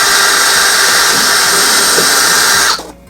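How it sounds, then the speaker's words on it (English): Electric drill drilling holes while wiring and installing a model railway turnout, a loud continuous high whine that cuts off abruptly near the end. "Get the drill after all."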